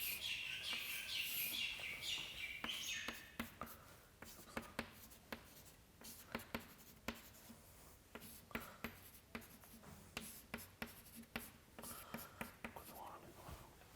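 Chalk or a pen strokes across a board in a continuum mechanics lecture, making a run of quick, sharp scratches and taps that carry on steadily with light background noise.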